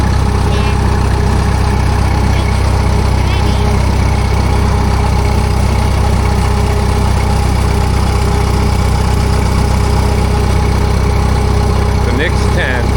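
A Minneapolis-Moline tractor engine runs steadily throughout while a young driver is at the controls, a loud continuous low drone with people talking over it.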